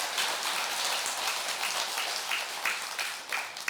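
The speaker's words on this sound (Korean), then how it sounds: "잘 불렀으면 박수 한번 쳐보라고." A temple audience at a monthly Buddhist dharma service claps for the choir, giving a steady, full wash of applause from many hands that holds throughout and swells slightly near the end.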